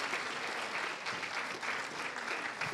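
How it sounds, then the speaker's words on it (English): A conference audience claps steadily, a dense even patter of many hands sustained throughout without cheering or speech. "Give them a round of applause."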